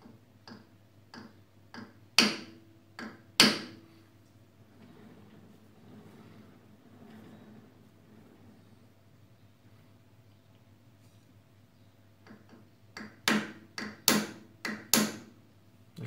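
A metal disc clamped in a lathe spindle is tapped by hand, giving sharp isolated knocks near the start and a faster cluster of taps near the end, with a quiet stretch of faint hum in between.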